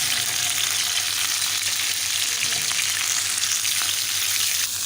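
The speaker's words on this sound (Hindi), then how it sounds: "इसी देसी घी में हमारा चिकन रखेंगे" Chicken frying in desi ghee in a pan gives a loud, dense, steady sizzle close up, holding even throughout with faint crackles and no voices.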